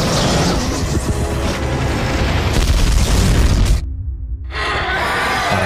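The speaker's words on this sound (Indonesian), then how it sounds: "sedangkan heli tersebut jatuh lalu meledak" A helicopter crashes and explodes in a film scene: a loud, sustained roaring boom that cuts out abruptly for a moment before the rumble returns.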